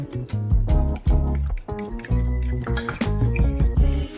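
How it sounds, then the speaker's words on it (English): A fork clinks and scrapes against a bowl while milk and beaten eggs are stirred into peanut butter, giving a quick, uneven run of close metallic taps and chinks. "Then stir in the remaining milk and beaten eggs."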